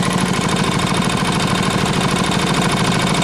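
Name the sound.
tiller engine running after carburetor fix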